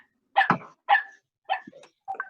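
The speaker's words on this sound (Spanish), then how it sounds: "Un perro." A dog barks four times in short, spaced bursts, fairly loud and close, with quiet gaps between the barks and no voices.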